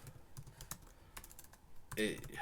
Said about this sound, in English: You have to press a key before it starts typing, right?